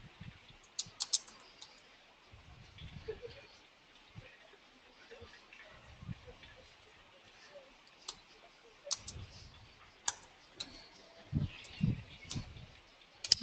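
Sparse, irregular clicks of someone typing on a computer keyboard, quiet and close, with pauses between bursts and a little speech nearby.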